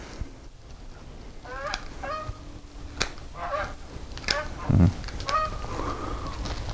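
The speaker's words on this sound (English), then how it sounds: "I think those were geese." Several geese honk in a rural setting, a series of nasal calls spaced irregularly across the stretch, moderately distant over steady background noise, with a low thump partway through and no talking.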